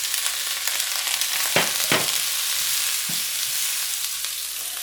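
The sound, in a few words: broccoli and garlic stir-frying for beef udon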